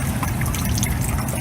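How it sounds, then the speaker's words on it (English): Steady rain in a cartoon garden scene during a thunderstorm, a continuous close hiss and patter of falling water with no talking, fairly quiet throughout. "rain,"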